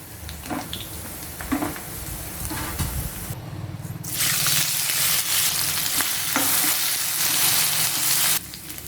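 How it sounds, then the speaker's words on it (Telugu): Ivy gourd (tindora) pieces frying in oil give a close, loud, crackling sizzle with scattered stirring knocks. Midway the sizzle surges into a dense, hissing roar and holds steady, then eases near the end, with no voices. "ఇప్పుడు ఇవి తీసి పక్కన పెట్టేసుకొని ఇదే ఆయిల్లో మిగిలినవి కూడా ఇదే విధంగా ఫ్రై చేసుకోవాలి"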